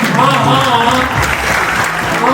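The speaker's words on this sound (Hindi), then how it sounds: "सब लोग जोर से ताली बजा के बोलने वाले" Wedding guests clap together loudly and continuously, a dense wash of applause mixed with voices calling out throughout.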